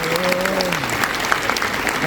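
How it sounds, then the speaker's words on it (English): Applause from a gathered crowd at a biker event, dense and steady clapping throughout, with a voice talking briefly over the start. "Y'all please clap for these folks around the applause, please."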